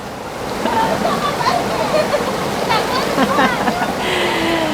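A river flows with people tubing down it near hot springs in Lava Hot Springs, Idaho, a steady rushing wash of water with scattered distant voices and splashes mixed in.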